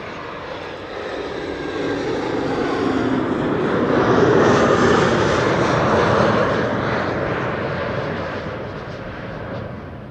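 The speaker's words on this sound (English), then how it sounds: "This is KLM flight 1068, Embraer 190 arriving from Southampton." A KLM Embraer 190 jet arrives to land at Amsterdam Schiphol, a broad rushing engine roar building steadily to a loud close pass and tapering away afterward, with no talking.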